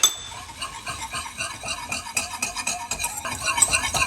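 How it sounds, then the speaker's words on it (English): A spoon or whisk stirs a roux of melted butter and flour in a pan, with quick, steady scraping strokes and small metallic clinks throughout. "You cook the roux until you obtain a blonde color and a nutty taste."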